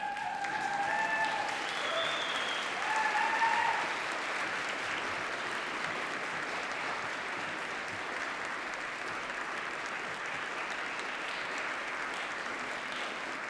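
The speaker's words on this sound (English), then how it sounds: "Can I ask that our graduating students stand and applaud their supporters?" Graduating students at a University of Manchester graduation ceremony stand and applaud their supporters, a broad, sustained wave of clapping filling a large hall, with a few faint voices and tonal sounds rising briefly early on.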